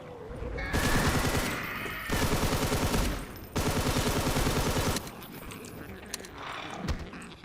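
Bursts of rapid automatic gunfire in a Half-Life mod, loud and close, in three or four long strings separated by short gaps.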